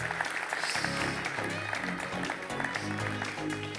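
Studio audience applauding guests of a French TV programme on home renovation, a steady wash of clapping mixed with music and some voices.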